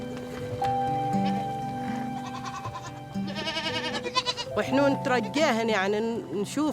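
Goats in the oases of Jebel Akhdar, Oman, bleat repeatedly as they head home to the pen, several overlapping calls growing louder and busier toward the end, with a voice speaking over them.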